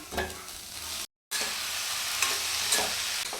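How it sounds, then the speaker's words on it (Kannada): Sprouted chickpeas stir-fried in a pan with coconut and salt, a steady close sizzle with scraping stir strokes, briefly cut to silence before resuming. "ಈ ಕಾಳೆಲ್ಲ ಫ್ರೈ ಆಗಿದೆ"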